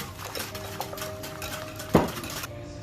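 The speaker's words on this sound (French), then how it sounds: "Ensuite, on va bien mélanger avec le fouet." A whisk scrapes and clinks steadily against a bowl, close up, with one sharper clack near the end before it stops.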